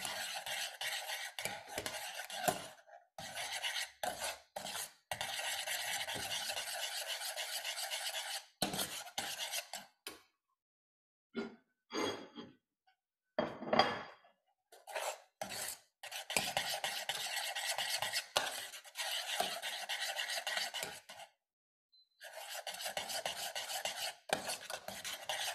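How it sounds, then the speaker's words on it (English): Boiling stock is stirred in a pot in a restaurant kitchen, with repeated close scraping and rubbing strokes in bursts separated by brief pauses; no voices. "So our stock is boiling."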